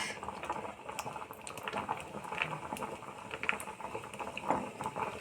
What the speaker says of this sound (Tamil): இதெல்லாம் சேர்த்து நல்லா பொரியட்டும்